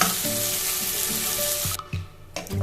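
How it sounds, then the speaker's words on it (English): Whole spices and dried fenugreek roast in a pan over a full flame, giving a bright, continuous sizzle with a few scraping stirs. The sizzle drops out briefly near the end, then resumes. "Roast all ingredients for 2 to 3 minutes on full flame."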